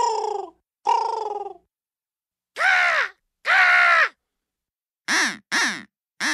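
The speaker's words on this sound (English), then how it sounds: "So for the remainder, enjoy these various bird calls." Several different bird calls from a fries commercial sound one after another as loud, separate squawks and caws, the last ones coming in a quicker cluster, with silence between them and no talking.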